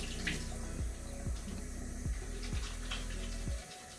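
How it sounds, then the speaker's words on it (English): Water runs steadily from a tap while hands are washed beneath it, a close, continuous splashing stream that stops abruptly near the end, with no talking. "Let's wash my hands really quickly."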